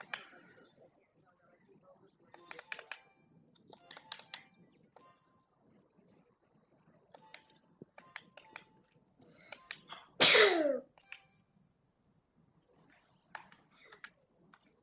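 A single loud sneeze bursts out near the mic during a Palia gaming session, standing out sharply against quiet keyboard and mouse clicks and faint background sounds.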